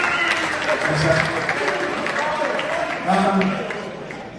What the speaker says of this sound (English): A big round of applause for the best MC in the business, ladies and gentlemen.